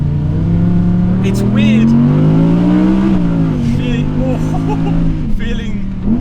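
Audi R8 GT with shorter gear ratios driving the Susten Pass, its engine droning steadily and rising slightly in pitch, loud and close inside the cabin while someone talks over it.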